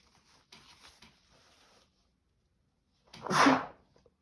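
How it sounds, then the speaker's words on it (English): A single sharp sneeze bursts out near the end after some faint rustling, loud and close, then quiet. "I'm going to sneeze. I knew I would."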